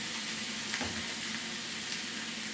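Flounder fillets fry with vegetables in a pan, giving a steady, close, even sizzle that runs the whole time with no talking.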